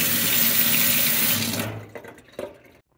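Tap water running in a sink over a pistachio green Zenith clock radio cabinet being washed after a Simple Green spray, a steady close splashing rush that stops abruptly, leaving a few faint drips and knocks.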